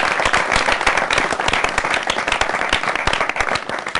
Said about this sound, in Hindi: इन्होंने गाना बजाया और गाया भी और इनके लिए जोरदार तालियां